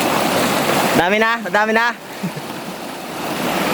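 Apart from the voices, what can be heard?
strong flowing water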